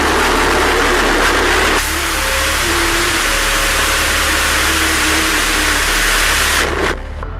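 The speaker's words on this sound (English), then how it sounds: "We just made history again by testing an engine 10 times more powerful than Stardust" Test firing of a bluShift Aerospace rocket engine, a steady, loud broadband roar that starts abruptly, holds for about five seconds, then cuts off.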